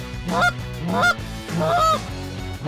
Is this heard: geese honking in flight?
yes